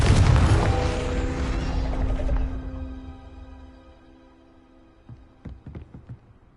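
The Confringo blasting spell in the Hogwarts Legacy video game goes off as a loud, booming burst, then fades into a ringing decaying tail, followed by a few faint clicks and thuds.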